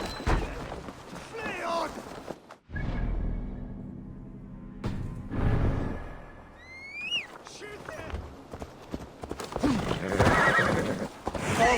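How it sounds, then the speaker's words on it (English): A horse in the video game Assassin's Creed Valhalla whinnies loudly amid clopping hooves and thuds, with a second shrill neigh partway through and a brief quiet gap between. "Basim, Eivor, to horse!"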